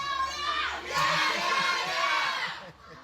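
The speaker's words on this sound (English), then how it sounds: "the parents doing the kids cheer" Parents cheer together for their kids at a Little League baseball game between CNMI and Thailand, a loud, sustained crowd shout that swells after a second and fades near the end.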